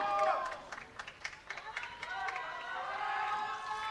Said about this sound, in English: We can hear the screamings from the Spanish team cheering for their teammates.